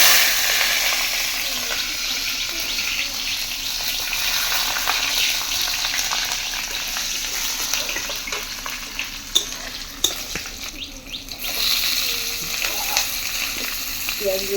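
Garlic and chili sizzling in hot oil for a chicken dish, a loud continuous bright crackle with a few scrapes and stirs of a spoon, close up and without talking.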